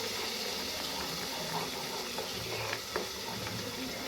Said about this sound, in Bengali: এটাও এবার নাড়াচাড়া করে নিচ্ছি।